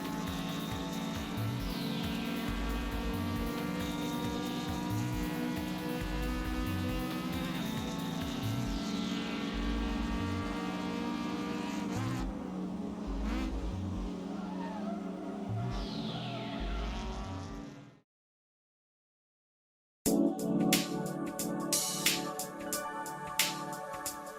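Racing car engine lapping Sportsland SUGO in Assetto Corsa, a loud revving drone rising and falling through gear changes and shifts with pulsing low rumble, a brief silent gap, then harsher clattering engine noise.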